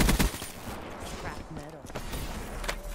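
Rapid automatic gunfire from Black Ops 3 multiplayer crackles in quick bursts, close and loud, with short pauses between volleys while a player talks over it.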